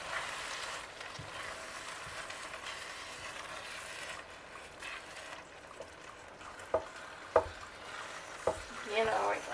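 Sloppy joe mixture with chunky canned sauce being stirred in a pan: a steady soft scraping and sizzling wash, with a few sharp spoon clinks near the end.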